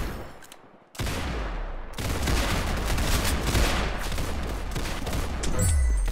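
Video game gunfire comes as a dense, continuous barrage of rapid shots, loud and sustained after a sudden start, with no speech.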